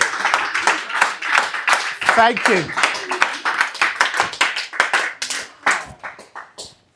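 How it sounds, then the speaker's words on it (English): Applause from a live stand-up comedy club audience, steady clapping running beneath a performer who talks over it for most of the stretch before it thins out near the end. "Give her a round of applause."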